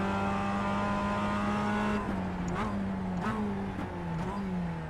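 Race car engine in the iRacing sim, production car at Oulton Park, droning steadily then easing off with small dips in pitch as the car slows to pull over, loud and close throughout.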